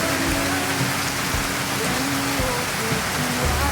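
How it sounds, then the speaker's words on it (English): Heavy rain pours down steadily, a dense, constant hiss of drops hitting surfaces close by. "it started raining like a motherfucker."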